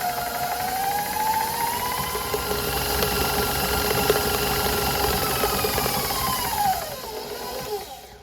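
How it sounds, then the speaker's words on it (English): A stand mixer creaming butter, salt and brown sugar: a loud, steady motor whine that rises as the mixer is cranked up, holds, then winds down near the end. "Now I'm going to crank my mixer up and allow these to cream together until everything is kind of light and fluffy."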